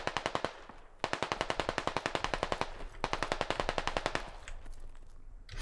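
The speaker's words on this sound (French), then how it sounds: "J'ai entendu des tirs par là." Rapid automatic gunfire in the video game Squad, several loud sustained bursts of evenly spaced shots separated by short pauses, fairly close and with no talking over it.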